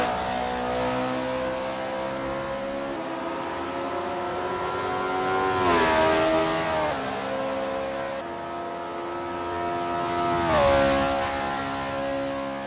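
Honda S800 race car in Assetto Corsa heading out of the pits at Cadwell Park, its engine revving steadily with two rising swells as it accelerates, close and continuous with no talk.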